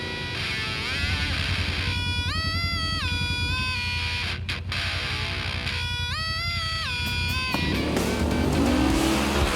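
Two side-by-sides, a Yamaha RMAX 1000 Sport and a Polaris General XP 1000 on stock tires, race in a loud continuous engine roar, with repeated rising and falling shift-like pitch sweeps and a brief break partway through.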